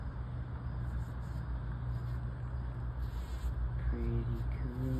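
A bee works thistle flowers outdoors, a steady close buzz that holds throughout with slight shifts in pitch as it moves, with brief softer tones near the end.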